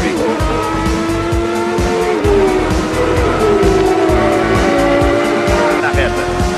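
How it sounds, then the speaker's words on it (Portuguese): A 1989 Formula 1 car at racing speed, Alessandro Nannini's, roars along the track with a high, wailing engine note that rises and shifts pitch, loud and continuous under a commentator's voice. "E aí o sexto colocado é exatamente o carro de Alessandro Nannini."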